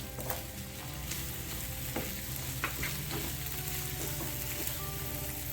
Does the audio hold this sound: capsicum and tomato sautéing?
yes